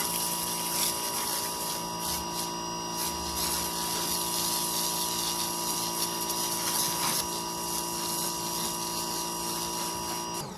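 Pressure washer with its top nozzle loosened to a wider fan, giving a steady, continuous broadband hiss of spraying water over a constant pump drone for the whole stretch, close and fairly loud, with no voices.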